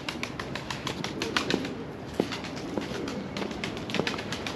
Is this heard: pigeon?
yes